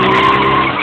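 A scooter revs as its throttle is twisted, a loud, sustained buzzing engine note that holds steady for under a second, close up and alone.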